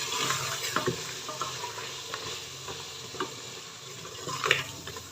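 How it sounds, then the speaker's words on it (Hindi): Paya trotters stir-fried with yogurt in a pot make a steady, moderate sizzle, broken by intermittent spoon taps and scrapes against the pot, with no voices. "दही के साथ 2 से 3 मिनट भुनाई करेंगे"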